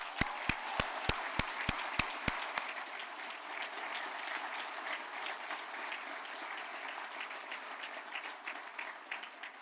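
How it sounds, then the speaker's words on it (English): Applause for a graduating class of 2020 at a virtual graduation ceremony, opening with a run of evenly spaced loud claps close to the mic, then continuing as softer, steady crowd clapping for several seconds without talk. "let's have a round of applause for the class of 2020"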